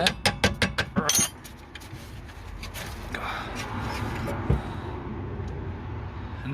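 Metal tool tapping on a BMW E60 rear control arm bolt to drive it out, a quick run of about ten sharp, ringing clinks near the start, then quieter workshop handling and rustling.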